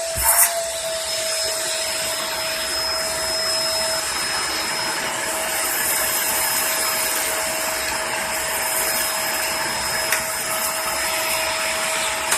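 A Bissell 2998 vacuum cleaner runs with its hose sucking hard, a loud, steady roar with a thin high whine held throughout and a brief knock at the start.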